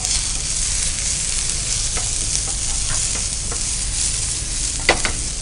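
Ginger and garlic pieces fry in a pan with a steady, loud broadband sizzle, broken by a few sharp clicks of stirring near the end, no voices.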